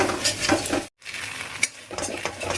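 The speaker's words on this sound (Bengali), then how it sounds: "এবার মশলাটা কষাচ্ছি" Spice masala for paneer is stirred and fried in a little oil in a pan, giving a steady close sizzle with scraping utensil strokes and a brief silent cut partway through.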